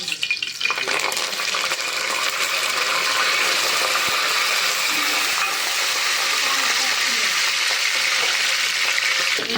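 Spices and chicken curry ingredients sizzle and crackle steadily in hot oil inside a pressure cooker, with a stirring scrape now and then; the frying is loud, close and continuous.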